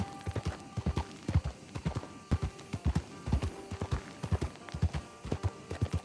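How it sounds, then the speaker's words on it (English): Horse hooves clip-clopping in the Westhaven role-playing video game, a steady walking rhythm of soft thuds with a faint background hum, no speech. "We'll water our horse up at the river."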